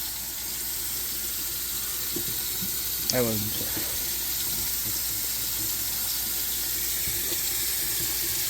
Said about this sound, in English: Alright, let's fill it up with some water.